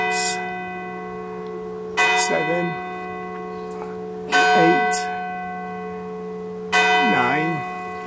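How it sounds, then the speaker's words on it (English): Church bells at St James, Wath peal in three loud strikes about two to three seconds apart, each with a long ringing hum that lingers between them over a low steady drone. "The bells!"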